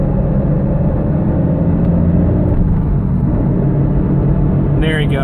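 A Porsche 986 with a failing transmission drones loudly and steadily while driving, a continuous low rumble and whir that stays constant throughout.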